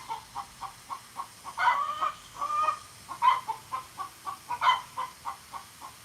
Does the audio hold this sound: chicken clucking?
yes